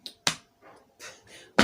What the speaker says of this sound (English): It's now 2 times I'm clapping my tummy.